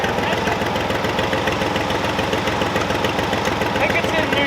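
An old diesel tractor engine, abandoned for ten years, idles with a steady rough knocking rhythm close by. Voices talk over it.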